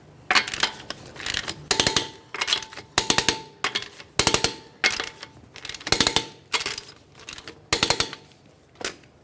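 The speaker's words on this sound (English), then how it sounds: "We'll be torquing each of our lug nuts in a crisscross manner" Rapid bursts of ratcheting clicks from an impact tool or torque wrench tightening lug nuts in a crisscross pattern on a 2007-2013 Acura MDX wheel, about ten short close, loud bursts in a steady rhythm.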